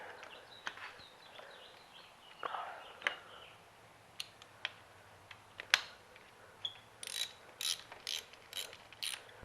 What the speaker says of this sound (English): I don't really care to see me unscrew a screw.